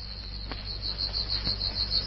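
A caged katydid chirps with a steady, high, rapidly pulsing trill, moderately close and continuous over a low background hum.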